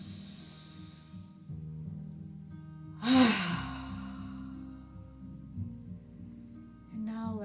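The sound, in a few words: deep breath in and out during meditation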